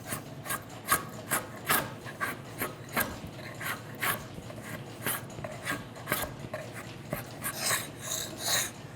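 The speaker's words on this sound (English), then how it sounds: "I'm moving my draw knife back and forth just to try to follow that" A draw knife scrapes along a hickory bow stave in steady back-and-forth strokes, each pass a dry rasping rub, close and moderately quiet with no talking.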